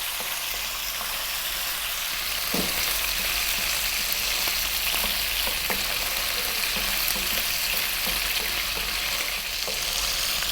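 Beef with salt frying in a pan over medium-high heat, giving a steady, loud sizzle with occasional stirring scrapes and clinks throughout.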